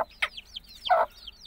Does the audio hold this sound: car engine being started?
no